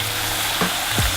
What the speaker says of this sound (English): Now we're gonna go back in here for our second fry.